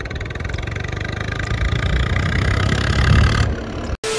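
A Swaraj 855 tractor engine runs at a steady, loud idle close by, a dense continuous rumble that cuts out abruptly for a split second near the end before resuming.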